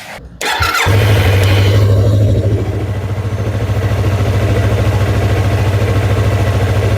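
A motorcycle engine cranks briefly, catches and settles into a steady, loud, low idle that runs on alone; the bike had a battery drained by LED lighting.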